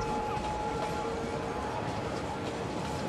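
A tram runs through a city in Cities: Skylines Mass Transit, making a steady, continuous rolling rumble with a faint tonal whine throughout and no voices.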